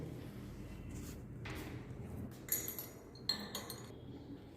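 Glass laboratory apparatus gives a few light clinks and taps against a steady room hum, in a chemistry practical setup near a water bath for identifying a carbohydrate sample.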